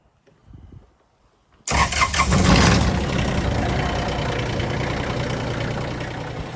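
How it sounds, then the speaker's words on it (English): A tractor engine cranks and catches abruptly after a near-silent moment, then settles into a steady, loud, rumbling idle close by. "So I'm going to crank the tractor and get that warmed up"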